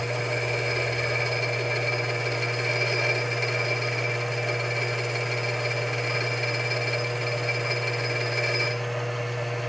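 A grinding wheel wears down the stop on a cuticle nipper during sharpening, giving a loud, steady, continuous whirring whine with a strong hum and high ringing tones that holds unbroken until it drops off just before the end.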